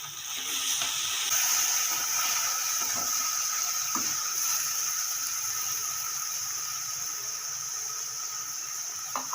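Capsicum and tomato with salt frying in a pan give a steady, close hiss and sizzle throughout, with a few faint clicks of stirring.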